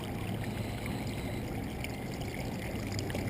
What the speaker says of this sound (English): There's a creek running, you can tell from behind me